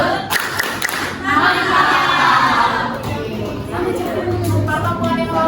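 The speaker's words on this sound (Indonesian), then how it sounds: "Kita tepuk salut dulu ya supaya lebih semangat ya" A school chemistry class performs the 'tepuk salut' clapping chant together, rhythmic group claps and voices mixed with a teacher's speech in a classroom.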